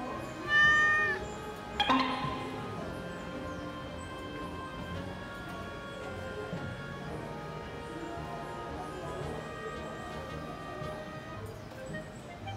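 Cats meowing in an animal cafe in Kawaramachi, Kyoto, with a couple of loud close meows early on, then softer mewing over quiet room tone.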